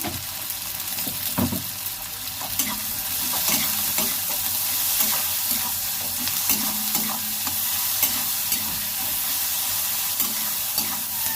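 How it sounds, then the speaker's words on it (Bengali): Onions frying in a pan while being stirred, a steady close sizzle broken by repeated scraping strokes of a spoon at an irregular rhythm, with no talking. "পেঁয়াজটা লাল লাল করে ভেজে নেব।"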